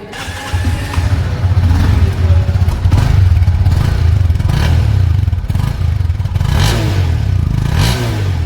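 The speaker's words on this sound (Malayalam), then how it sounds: "എക്സോസ്റ്റ് നോയ്സ് ഒന്ന് കേട്ടല്ലോ" A 2025 Honda CB300F running on flex fuel revs its exhaust up close, a loud, throaty engine note rising and falling through several throttle blips.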